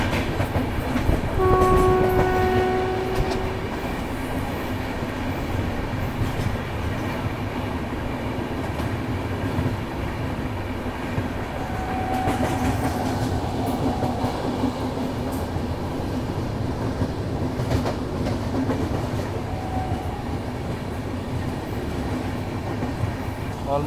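Double decker express train running through a station without stopping, a steady rolling rumble with rail noise throughout, a couple of brief horn-like tones early on and nothing standing out from the continuous wash.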